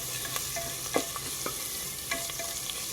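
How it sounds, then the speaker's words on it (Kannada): Crushed ginger and garlic frying with cumin, giving a constant close sizzle with scattered light stirring clicks. "ನಾನಿಲ್ಲಿ ಶುಂಠಿ ಬೆಳ್ಳುಳ್ಳಿನ ಜಜ್ಕೊಂಡಿದ್ದೀನಿ. ಈಗ ಇದು ಹಸಿ ವಾಸನೆ ಎಲ್ಲ ಹೋಗೋವರೆಗೂ ಫ್ರೈ ಮಾಡ್ಕೊಳ್ಬೇಕು."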